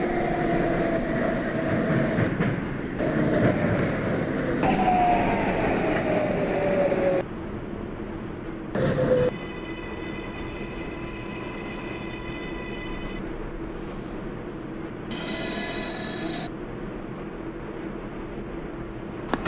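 A Manhattan-bound local 6 train on the New York subway rumbles steadily along the rails, with a rising whine as it runs, brief surges and screechy tonal squeals near the end; no talk.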